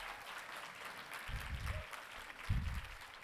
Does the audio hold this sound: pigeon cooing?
no